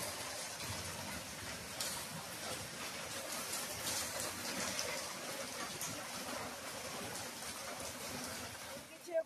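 Heavy rain pours steadily on a Friday morning during a power cut at home, a dense, continuous hiss with no letup, and a voice sounds faintly beneath it.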